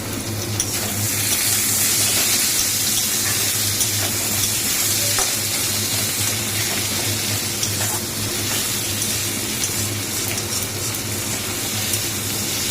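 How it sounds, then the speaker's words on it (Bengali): Onion and tomato frying in a pan, a loud steady sizzle with scattered crackles and faint stirring scrapes throughout, no voices. "পেঁয়াজটা ভাজা ভাজা হয়ে গেছে এবার আমি এর মধ্যে এই যে টমেটোটা দিয়ে দিলাম টমেটোটা দিয়ে এবার একটু ভাজবো"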